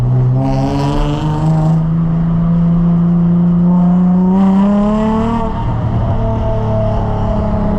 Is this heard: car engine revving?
yes